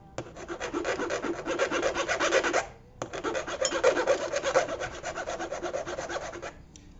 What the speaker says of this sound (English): Now I just have to continue filing this until it's all metal color